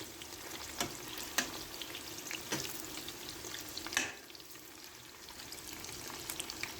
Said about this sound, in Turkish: Böyle bu şekilde kızartıyorum.